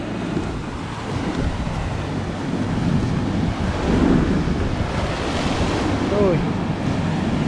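Ocean surf breaks on a rocky shore near a hidden cave, a continuous loud wash of waves with heavier surges, mixed with strong wind buffeting the microphone.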